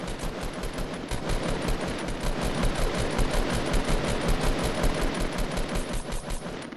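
Sustained rapid gunfire from a Fortnite match, loud and close, a steady stream of shots throughout with no break.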